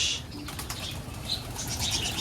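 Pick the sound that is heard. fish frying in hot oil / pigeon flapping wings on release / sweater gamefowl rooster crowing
pigeon flapping wings on release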